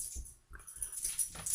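A pet dog giving soft, brief whimpers and small whines indoors, with faint rustling and jingling nearby, quiet and close.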